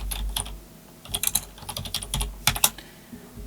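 Computer keyboard keys clack in quick irregular bursts close by, typing a font name into an online design tool, with short pauses and no voices.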